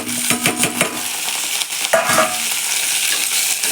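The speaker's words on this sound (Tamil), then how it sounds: "இஞ்சி பூடு போட்டு அதையும் நல்லா வதக்கலாம்" Onion, ginger and garlic fry in a pan while being stirred for cauliflower gravy, giving a steady close sizzle with a few quick scraping strokes early on, with no talking.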